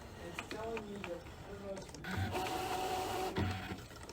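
A Scan N Cut cutting machine works through fabric alongside a Luminaire sewing machine setup, giving a steady mechanical whir with short motor pulses and clicks throughout, while a person talks over it.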